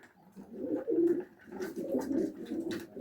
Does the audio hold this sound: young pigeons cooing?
yes